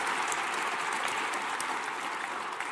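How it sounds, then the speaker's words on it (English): An audience at a Hall of Fame ceremony applauds steadily, a dense even wash of clapping at a moderate distance, with no voices over it. "We can give them a round of applause."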